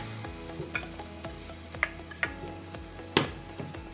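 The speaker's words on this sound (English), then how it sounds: "toss it around to make sure all slices will be coated with the mixture" Apple slices stirred and tossed in melted sugar in a pan over low heat, giving a steady soft sizzle with a few sharp clicks of a utensil against the pan, no voices.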